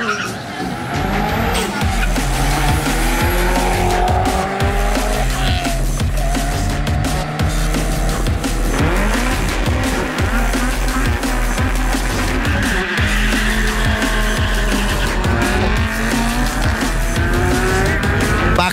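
Drag racing cars launching head to head on a quarter mile strip in Guyana, loud roaring engines with tire squeal and rising revs, sustained throughout with crowd noise.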